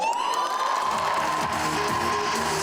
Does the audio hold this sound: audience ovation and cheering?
yes